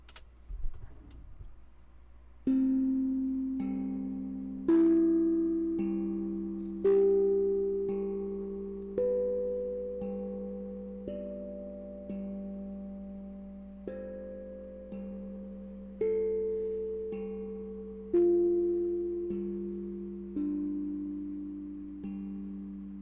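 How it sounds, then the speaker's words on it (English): A series of about ten electronic chime tones opening a trading session, each a clear ringing note that rises or shifts in pitch and decays, played at a steady pace of roughly two seconds apart with no talking. "I'm going to go ahead and hit the tones and move us into the session"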